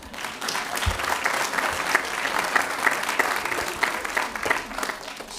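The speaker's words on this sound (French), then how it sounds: "un public qui rit ou qui applaudit" A theatre audience at a school play in Langogne claps steadily throughout, a dense, continuous applause from a crowd with no voices standing out.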